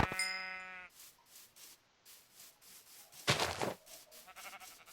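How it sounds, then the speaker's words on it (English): A sheep in modded Minecraft gives a short, nasal, quavering bleat at the start, followed by quieter game sounds such as scraping steps and a brief rough burst of noise midway. "I hear a sheep."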